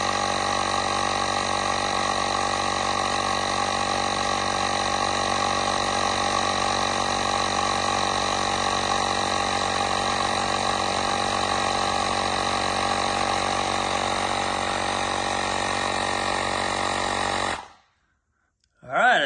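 A cheap air compressor inflating a motorcycle tire, running as a loud, steady, close drone with a strong tonal hum. It cuts off sharply near the end, followed by a brief sound.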